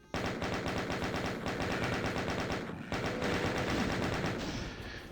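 Chaingunner enemy in DOOM firing a continuous rapid stream of machine-gun shots, loud and close, with a brief gap before the rattling burst resumes.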